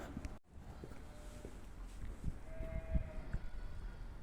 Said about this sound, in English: You can hear the sheep, baby sheep, some kind of farm there or whatever.